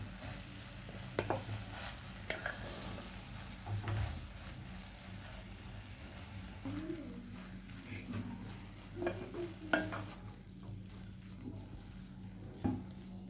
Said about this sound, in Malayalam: ഈ നല്ലോണം ഗീയിൽ വഴറ്റിയെടുക്കണം.